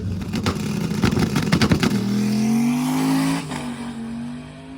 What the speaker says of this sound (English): we have Goldstone pulling up for the next pass